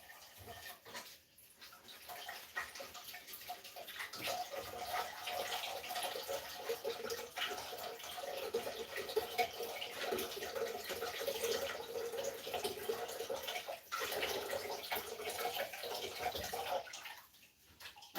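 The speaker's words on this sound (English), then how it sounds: "I'm going to rinse off this pasta and get it really cooled down" Tap water runs steadily into a kitchen sink while cooked pasta is rinsed, a continuous moderate splashing hiss with brief dips near the start and end.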